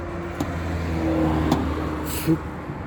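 A Tümosan 7065 tractor engine runs close by with a steady, loud diesel hum that swells slightly as it revs, punctuated by a few brief clicks and knocks.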